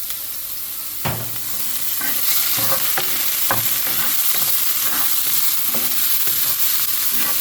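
Finely chopped onion sautés in oil, a continuous sizzle punctuated by repeated spatula scrapes and knocks against the pan in an uneven rhythm, close and loud, without speech.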